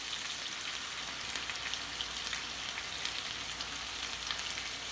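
Turkey meatballs sear in a cast iron pan with a steady, fairly soft sizzle and crackle, continuous and unbroken by talk.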